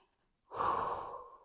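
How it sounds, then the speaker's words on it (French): A single deep, slow breath taken during a guided meditation, close and clear. It starts after a short silence and stays steady as it trails off. "on respire et on s'ancre dans l'instant présent"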